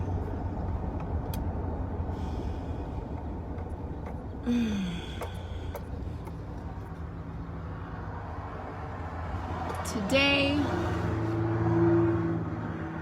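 Steady low road and engine rumble heard from inside a moving car, with a couple of brief squeaks and a rising whine over the constant drone.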